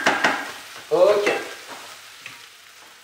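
Rice and peppers stirred in a frying paella pan, a scraping stir over a soft steady sizzle, close, with a brief spoken word.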